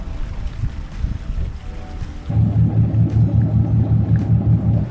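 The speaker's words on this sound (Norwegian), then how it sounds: "Der kommer ferja." An arriving ferry on the Norwegian coast gives a deep engine rumble that swells partway through into a louder, throbbing low drone, with wind and water noise around it and no talk.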